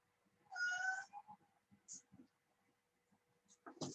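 A real cat gives one loud, drawn-out meow close to the microphone, followed by quieter small chirps and rustling, and another brief cry rising at the end.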